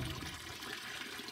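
Water runs from a hose into a cattle tank at a barn, fed by small, distant lines with slow flow, a steady rushing hiss heard alone throughout.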